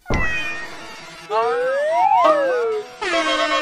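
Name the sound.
guitar effects pedal in pillow mode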